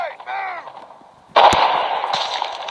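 A sniper rifle gunshot in a first-person shooter video game goes off as one sharp, loud blast that is followed by a sustained noisy tail, after a brief stretch of quieter sound.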